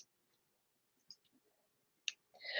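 A computer mouse clicks a few times in a quiet room, with sharp, brief, faint taps spread out and a louder click near the end.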